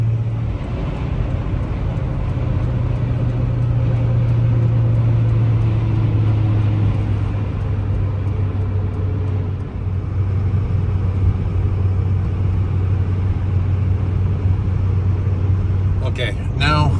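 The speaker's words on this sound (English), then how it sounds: "we just hit traffic" Steady, loud engine and road drone from a Suzuki V-Strom motorcycle riding in traffic on Interstate 90, continuous and unbroken, with a short rattle near the end.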